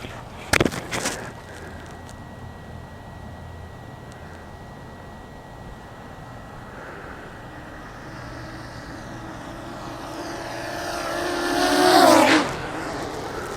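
A whirring drone propeller buzz from carbon fiber tri-blade props on a DJI Mavic Pro drones steadily, preceded by a few sharp clicks, then swells louder as it passes close by.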